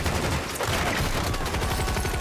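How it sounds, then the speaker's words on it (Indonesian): Brutal gunfire shootout in an action film as triad gang members storm in, a dense, continuous clatter of rapid shots and bursts filling the whole stretch at steady loudness without pause. "Anggota triad menyerbu, baku tembak brutal terjadi."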